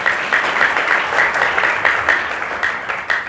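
A congregation claps at a Sunday church worship service, loud, sustained applause from many hands that swells and eases in waves without any speech on top.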